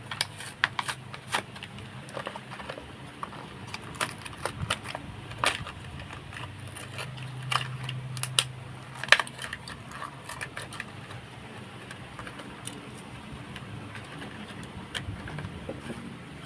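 Hot Wheels toy car packaging is opened close up: plastic and cardboard crackle and tear in repeated sharp bursts over a soft background, with no talking.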